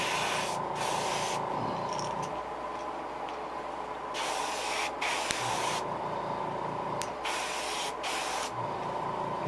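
Airbrush spraying a fresh coat of paint onto a custom painted fishing lure, a steady close hiss running in several bursts with short pauses between them, no talking.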